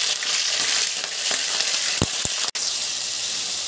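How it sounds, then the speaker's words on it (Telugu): Cleaned crabs fry in hot oil with a loud, dense, unbroken crackle, sizzling close up throughout, with a couple of soft knocks and a brief dropout partway. Nobody speaks. "మనం పీతల్ని ఇలా ఫ్రై చేసుకోవాలి।"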